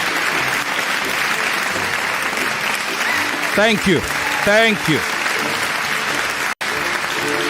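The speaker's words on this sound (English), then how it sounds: "That was thunderous in terms of applause." Thunderous audience applause at a televised debate show, I Beg to Differ: loud, dense clapping from a large crowd running throughout, while a voice speaks briefly over it midway.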